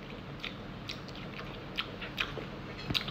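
Crunchy string beans (sitaw) from a neighbor's home-cooked dish being chewed up close, a few sharp crisp bites scattered over a soft steady hiss, with no talking.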